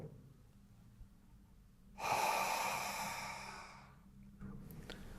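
One long, loud breath drawn in during a breathing exercise, a close airy rush that swells and then fades out. Quiet room tone sits before and after it.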